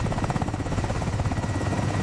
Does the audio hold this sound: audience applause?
no